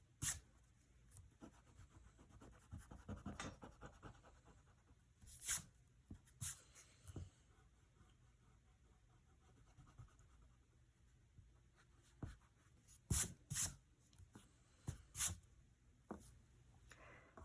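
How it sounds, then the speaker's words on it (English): A pencil eraser rubbing out lines on a paper drawing of a room in two-point perspective, heard as short scattered scrubbing bursts close up, with quiet gaps in between and no talking. "I'm going to go ahead and erase those lines so I don't get confused"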